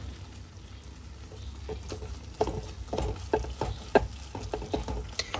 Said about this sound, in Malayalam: നന്നായിട്ട് ശർക്കര ഉരുക്കി പിടിച്ചിട്ടുണ്ട്